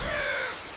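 A cartoon crow gives a single loud, harsh caw, close and alone, the cry ringing for about half a second before trailing off.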